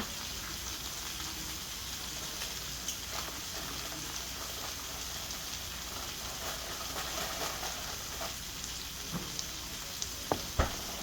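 Food cooking in a pan, a soft, steady sizzle and hiss with occasional small clicks and taps of utensils near the end, fairly quiet and close.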